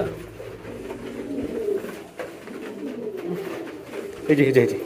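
Damascene pigeons coo softly in a loft, low rolling calls rising and falling close by, with someone talking over them.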